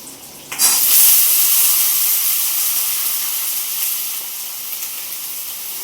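A loud burst of sizzling as aubergine and potatoes hit hot oil, then a steady crackling hiss that gradually settles, close by with no talking.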